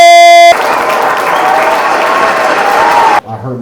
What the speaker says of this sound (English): Start clapping right now for Mattress!